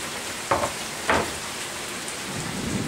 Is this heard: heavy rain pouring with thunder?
yes